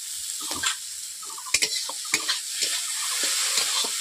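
Okra stir-fries in a pan as cumin powder goes in, a soft, steady sizzle broken by several sharp spatula scrapes and clinks against the metal, heard up close without talk.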